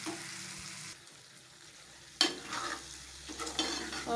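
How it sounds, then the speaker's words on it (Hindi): Crushed potatoes tipped into a pan of fried spices and stirred for a bhujia, with a soft sizzle and scraping stir that jumps louder partway through, then keeps crackling steadily at close range. "अब मैंने ये जो आलू कूट के रखे हैं अब ये ऐड कर रही हूँ।"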